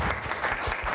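Audience applause in a hall, a brief, dense patter of clapping from a crowd, moderately loud and steady.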